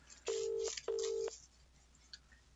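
A telephone is dialed with two clear, loud touch-tone beeps in quick succession, each lasting about half a second, with near silence after.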